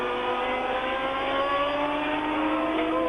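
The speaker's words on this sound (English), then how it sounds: "Villeneuve, Arnoux, Ferrari, Renault." A steady high engine drone from 1979 Formula 1 cars, a Ferrari and a Renault, racing at the French Grand Prix, holding a constant pitch for about three seconds with no talk over it.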